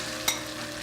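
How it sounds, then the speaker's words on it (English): A steady, close sizzle of eggs frying in a hot pan, with a brief sharp clink partway through. "Listen to that sizzle."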